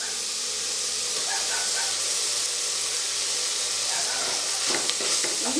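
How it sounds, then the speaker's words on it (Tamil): Ginger garlic paste sautéing in a pan with curry leaves and green chilies makes a steady, hissing sizzle up close, with a few spatula scrapes and clinks near the end and no one speaking. "இஞ்சி பூண்டோட பச்சை வாசனை போடுற அளவுக்கு நல்லா வதக்கிங்க"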